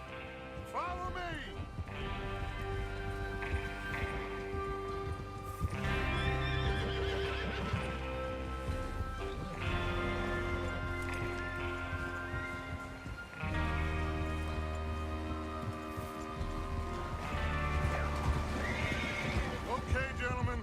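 Horses in the Red Dead Redemption 2 game whinny and snort repeatedly over hoof clip-clops, several loud neighs rising out of the mix at intervals, with a voice speaking in between.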